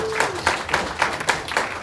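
Audience at an Andrew Yang town hall in New Hampshire clapping in a brief burst of applause, several claps landing in a loose rhythm at moderate volume.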